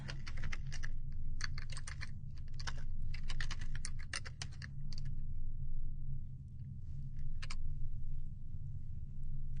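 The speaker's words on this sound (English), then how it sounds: "We're going to type dash URL and then the path." Quick bursts of typing on a computer keyboard as a command is entered, close clicking keystrokes in clusters with pauses, over a low steady hum.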